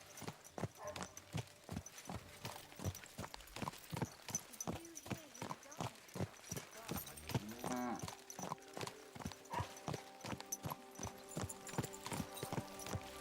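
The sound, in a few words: horse hooves clip-clopping in Kingdom Come 2 video game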